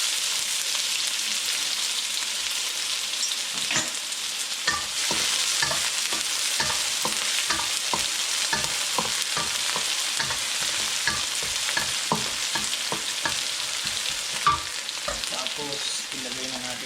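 Garlic and onion sautéing in a pan as the base for pork igado, a bright continuous sizzle with a rapid run of spatula scrapes and taps against the pan, close and steady throughout, with no talking.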